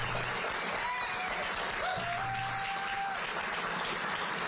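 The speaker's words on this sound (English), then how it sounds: "Give them a round of applause." Steady applause from a crowd fills the scene, with a faint tonal whine drifting above the clapping throughout.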